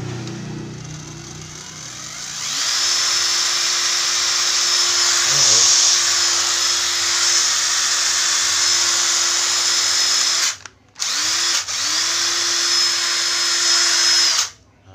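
A used cordless battery drill revs up and runs with a steady high whine, briefly stopping and restarting near the end, close and loud.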